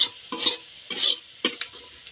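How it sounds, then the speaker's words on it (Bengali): Onions frying in a pan for a mustard dish, stirred in a few separate bursts of scraping and crackling sizzle with brief quiet gaps between strokes. "পেঁয়াজটা লাল লাল করে ভাজা হয়ে গেছে।"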